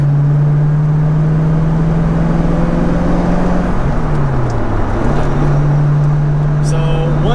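A stock-sounding Corvette Z06 engine hums at a steady low drone while cruising, with a brief dip in pitch midway, continuous road noise under it.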